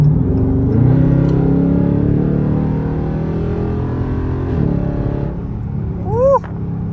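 A 650 hp SRT 392 V8 car engine rumbles loudly and steadily from inside the cabin, holding a low growl for several seconds before a brief rising rev near the end.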